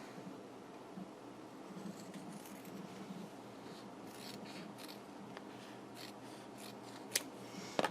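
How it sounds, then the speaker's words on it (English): Scissors cut paper for a mini planner with quiet, close snipping and rasping strokes, followed by a few sharper snips near the end, with no talking. "Okay, I'm just gonna cut it."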